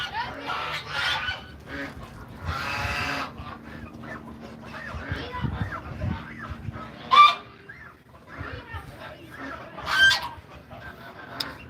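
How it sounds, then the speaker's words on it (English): A gang of ducks squabbling and brawling outdoors, with overlapping harsh honks and quacks that come in uneven bursts, a couple of louder squawks standing out, and a faint human voice now and then. "Now I have a whole gang of ducks over here, and they get brawling"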